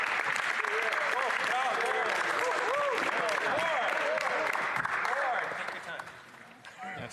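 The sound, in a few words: applause in parliament chamber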